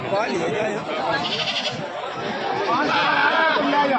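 Goats bleat at the Babarpur goat market in Uttar Pradesh, several calls rising over a steady crowd hubbub with people chattering throughout.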